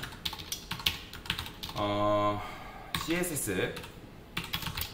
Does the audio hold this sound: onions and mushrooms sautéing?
no